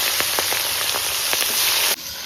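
Chopped onions hit hot oil at an outdoor picnic cooking setup, giving a steady, loud, crackling sizzle with scattered sharp pops throughout, no voices.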